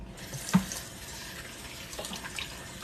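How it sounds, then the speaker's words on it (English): Hot water runs from a kitchen tap while dishes are rinsed, a steady moderate hiss of flowing water with one brief soft knock near the start. "Use the hot water to clean the rest of your dishes up."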